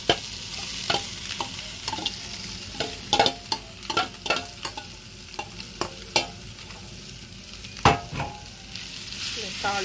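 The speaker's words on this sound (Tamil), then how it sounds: "சேர்த்து வச்ச மீன், இந்த தேங்காய் பூ மசாலாவை இதுக்குள்ள போட்டு" Shark fish pieces tossed with grated coconut masala in a pan sizzle and fry while a spoon scrapes and stirs in repeated sharp clanks against the metal, close and clear.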